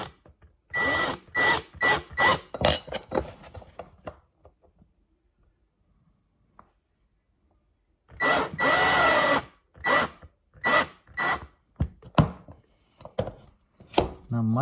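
Power drill driving self-drilling Torx screws into material for a soft headboard-closet base plate, heard as repeated short loud whirring bursts in two clusters separated by a quiet pause.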